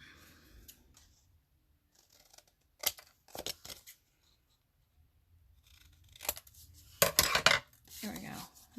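Scissors snip through fabric being cut into sewing pieces such as pockets and tags, giving several short, crisp close-up cuts spaced out over quiet, with a denser run of snips near the end.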